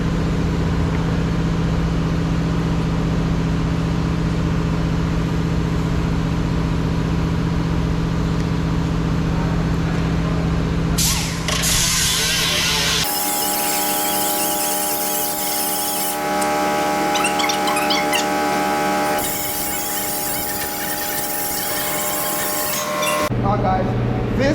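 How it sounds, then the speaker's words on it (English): A grinder works on the metal door skin of a 2015 Nissan Versa, a steady loud whine and rough abrasive grinding that shifts in tone and changes abruptly partway through, with a voice speaking at times. "You're going to grind it until you see 3 metals."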